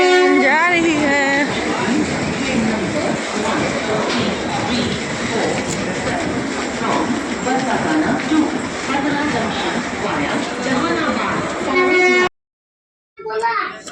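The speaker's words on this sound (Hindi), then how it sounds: "ट्रेन जा रही है।" A passenger train runs in Bihar, India, with steady rumbling rail noise and a horn that sounds near the start. The sound is loud and close, voices are heard in the clip, and it drops out near the end.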